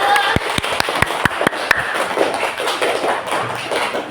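Students in a classroom clap for a group presentation, a short run of sharp claps that starts spaced and quick and then blends into a scattered patter under murmuring voices.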